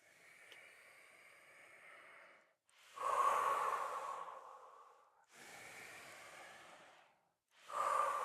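Deep Pilates breathing during a wall warm-up: a long soft exhale, then three strong breaths in and out in a slow rhythm, close and breathy with no talk.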